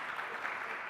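Brief, fairly faint clapping from a summit audience after a morning presentation on AI in education, an even patter of hands without voices.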